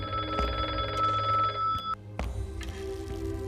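A telephone bell rings loudly and close in a tense courtroom drama scene, repeated bursts of bright trilling with brief breaks, then a sharp cut as the ringing stops and a quieter stretch follows.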